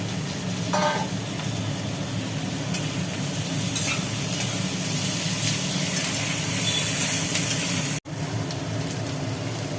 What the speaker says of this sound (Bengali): পেঁয়াজগুলো হালকা ভাজি করার পরে ওর ওপরে পড়ে গেল আলু